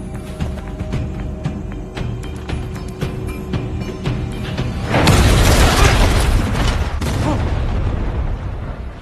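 A trap door swings open in a series scene and a big explosion erupts, starting with faint mechanical clicks before a loud, sudden boom about halfway through that rumbles and slowly fades.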